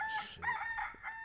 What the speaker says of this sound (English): You hear the rooster crow.